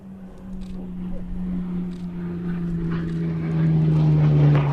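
A Spitfire's propeller engine drones steadily at an airshow, a continuous low hum that grows gradually louder and nearer, with faint radio-style voice traffic underneath.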